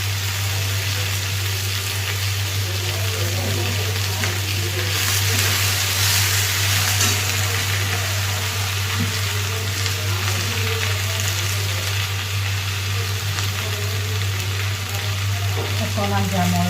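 Taro stems (kochu thuri) sizzle and fry in hot oil in a home kitchen, a steady crackling hiss over a constant low hum, with occasional stirring.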